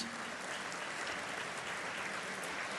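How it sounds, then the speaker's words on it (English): Audience applause fills the room at a chamber of commerce awards luncheon, a steady, dense clapping that holds evenly throughout without pause. "All right, another round of applause."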